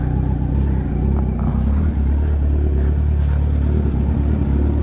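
A Kawasaki Z900 motorcycle engine idles close by with a loud, steady low rumble and throb while the bike is moved into a shelter, holding a constant level throughout.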